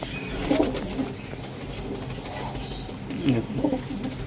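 Original Punjabi Malbai pigeons cooing nearby: soft, throaty rolling coos come in two clusters, at the start and near the end, over a low ambient hum.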